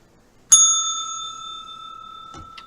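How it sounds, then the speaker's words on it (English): A single bright bell strike rings out near and loud, its clear tones sustaining and slowly fading, followed by a faint knock near the end; nobody speaks. "First time I ever rang the bell on camera."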